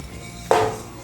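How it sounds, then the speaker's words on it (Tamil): Roasted moong dal being tipped onto a plate in a home kitchen, a single close clatter of grains and utensil against the plate that starts abruptly and trails off quickly after a quiet lead-in. "ஸோ இப்போ வந்து இதை நம்ம வந்து ஒரு பிளேட்டுக்கு மாற்றிடலாம்."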